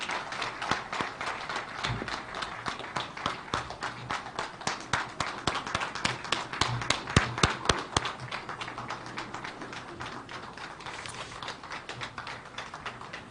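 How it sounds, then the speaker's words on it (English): An audience at an international governance conference applauds after a keynote address, with a long run of thin, scattered claps heard at a moderate distance and fairly quiet. "Another round of applause for Professor Kauzia"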